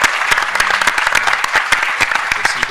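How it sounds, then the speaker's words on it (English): Conference workshop audience breaks into steady applause, a dense patter of many hands clapping close and loud throughout, with a few sharper individual claps standing out. "give them a round of applause"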